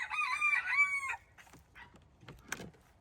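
A chicken in a henhouse calls out loudly in one long drawn crowing cackle, followed by softer scattered clucks and small rustling noises nearby.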